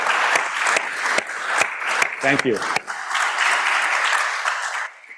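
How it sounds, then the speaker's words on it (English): Conference attendees applaud the moderator on the closing day of a small forest holdings conference, a dense round of clapping with a few sharp close claps, a short spoken thanks in the middle, then fading out. "Special thanks and big clap for Ricardo."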